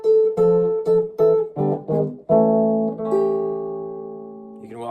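Guitar walks down a blues turnaround in A, a run of plucked notes and chords stepping downward before settling on a long ringing chord, played alone and close in an early Chicago electric blues style.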